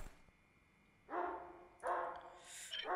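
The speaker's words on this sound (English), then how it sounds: "Oh, dog bark random event, which means the zombies will be led to wherever the barks came from." Dog barking random event in the video game Project Zomboid: a few distant-sounding barks arrive in short bursts after a quiet start, with a higher yip near the end.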